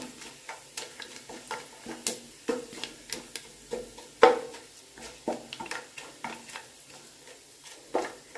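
Vegetables, with fennel and kalpasi, fry in ghee for vegetable brinji while a spoon stirs the pan, giving a close, steady run of scraping stir strokes over a soft sizzle, with no talk.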